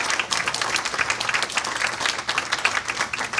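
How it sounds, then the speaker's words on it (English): An audience applauds a student panel at a narrative arts and health professions event, a steady, moderately loud patter of many hands clapping throughout. "So can we pause just for a minute to give them a round of applause?"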